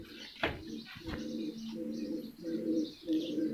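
An aged female champion pigeon coos in a series of soft, rhythmic, repeated calls at close range, with a couple of brief sharp clicks or flutters near the start.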